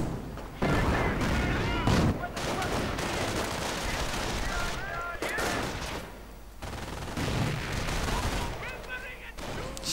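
Artillery and rifle fire in a WWII strategy game, with dense bursts of gunshots and explosions rumbling almost continuously, broken by a couple of brief lulls, with a voice talking over parts of it.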